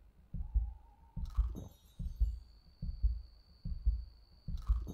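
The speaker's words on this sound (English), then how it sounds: "this heartbeat is really just giving me the shits" Heartbeat sound effect in the survival video game Enshrouded: a steady, deep thumping pulse repeating about once per second, near and prominent, with faint chimes and a sustained tone over it.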